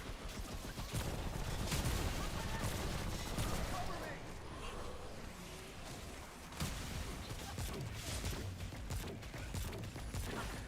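Dense, continuous gunfire from an enemy in a first-person shooter video game, a loud rapid barrage of shots with mechanical clatter mixed under a voice talking.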